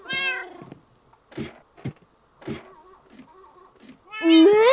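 Several cat meows from a Minecraft game, one at the start and a loud drawn-out one at the end, with brief soft noises and quiet gaps in between.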